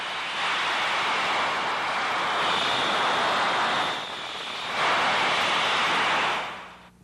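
Leak noise picked up by an ultrasonic leak detector during heat exchanger condenser tube inspection, a loud steady hissing rush that swells, dips briefly, then returns before fading out.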